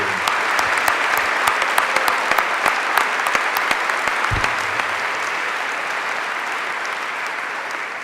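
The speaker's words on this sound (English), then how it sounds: "So let's give them another round of applause for the great work" Loud, sustained applause from a large keynote crowd at an AWS summit, dense clapping with a few sharper individual claps standing out, steady throughout with no talking.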